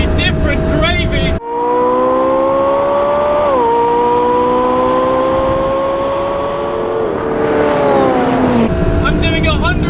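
A Porsche 918 Spyder roars past at high speed, its engine note climbing in a loud sustained whine with a gear change midway and a second rising pass near the end, heard up close from a chasing car doing about 160 mph.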